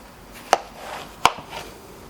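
A knife cutting a watermelon into wedges, two sharp close chops about three-quarters of a second apart, followed by a fainter third knock, with no talking.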